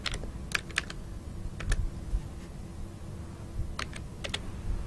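Sporadic clicks of computer keyboard keys during SPSS data entry, in short bursts separated by pauses, close but quiet over a low background hum.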